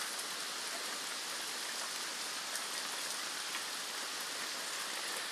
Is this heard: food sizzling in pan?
no